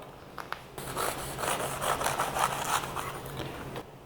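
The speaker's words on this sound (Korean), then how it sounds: "그러면 속에 한번 잘라 보겠습니다" A knife saws through a crisp baked choux pastry shell, giving a close, dry, crackly scraping that runs steadily for about three seconds.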